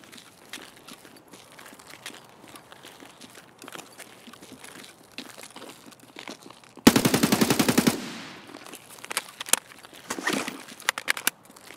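A rapid burst of AK rifle fire in Escape from Tarkov, about a second of loud, evenly spaced shots, followed by a few scattered sharper reports amid quiet footsteps and rustling.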